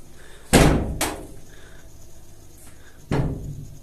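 A door banging in a horror-story setting: two heavy slams close together, then a third after a pause, loud and near, with a faint background between hits and no speech.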